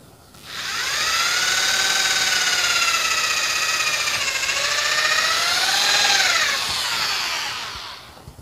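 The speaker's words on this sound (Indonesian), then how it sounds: "Dibor lagi." A power drill bores into a rice huller bearing part clamped in place. A steady, loud whine runs for about seven seconds, its pitch sagging and recovering under load before it winds down, with no talking.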